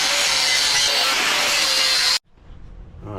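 A power saw cuts through the metal remote gear shifter of an Austin Ten, a loud, steady grinding rasp that stops abruptly, leaving a quiet workshop with faint shuffling.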